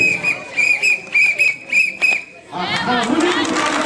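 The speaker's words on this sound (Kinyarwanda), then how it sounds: "ifirimbi nayo ifite icyo isobanuye." A whistle is blown at a marching parade in Kigali, a series of sharp shrill blasts in a stuttering rhythm close by, followed by crowd chatter and hubbub.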